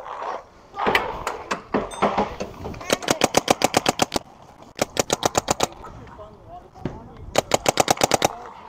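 Paintball markers fire in rapid bursts of sharp, evenly spaced pops during an outdoor paintball game, with several volleys close by and players shouting between them.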